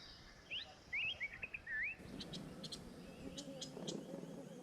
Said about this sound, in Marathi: उन्हाचा तडाखा जसजसा वाढत जातो तसतशी पाणवठ्यावर पक्ष्यांची गर्दी वाढत जाते.